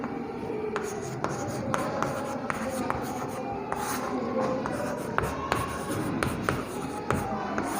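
Chalk or marker writing on a classroom board during a Hindi-language physics lesson on light dispersion through a prism, heard as steady scratchy strokes with sharp taps, close and moderately loud over a dense room background.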